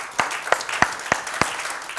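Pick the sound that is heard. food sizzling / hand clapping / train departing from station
hand clapping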